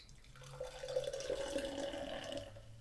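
3D Energy Drink pours steadily from a can into a glass with a faint fizzing, bubbling trickle, close and quiet, lasting a few seconds without speech.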